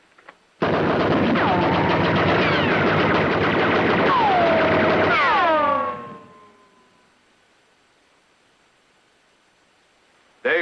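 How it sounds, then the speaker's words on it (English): Sustained rifle gunfire and explosive battle noise from a western film fight, loud and dense for about five seconds with descending whistling streaks, then cutting off and fading into near silence. "Are you sure we're safe from the bullets here?"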